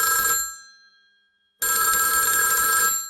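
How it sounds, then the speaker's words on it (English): An old-fashioned bell telephone in a 1940s noir audio drama rings loudly twice, each metallic trill jangling bright and close with a clean silent pause between rings. "when the phone rang"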